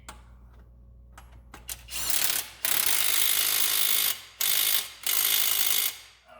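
Power ratchet running a crankshaft bolt back down on a 2004-2008 Ford F-150 4.2L V6 after a front crank seal replacement, loud whirring mechanical bursts with short pauses between, close by.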